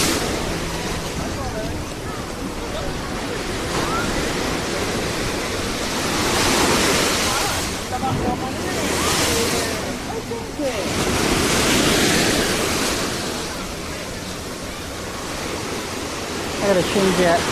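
Ocean waves washing onto a beach in a video game, a steady broad surf wash that swells and recedes in slow surges, fairly close and continuous with no voice over it.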